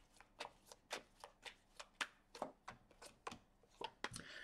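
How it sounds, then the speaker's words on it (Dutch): Tarot cards are riffled and shuffled in a quick, even run of about a dozen crisp, close slaps and flutters. "Dan de kaarten schudden om te kijken wat deze week voor de kreeft gaat brengen"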